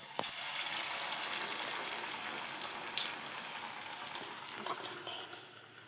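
A continuous hiss of aloo cornflakes snacks frying in hot oil, a steady bubbling sizzle with a few sharp crackles, close and even.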